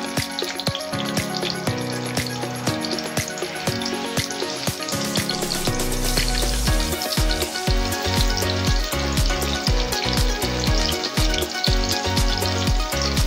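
Onions fry in a pan for a crab curry with a steady, dense sizzle that swells louder midway, close up and continuous, and no voices are heard.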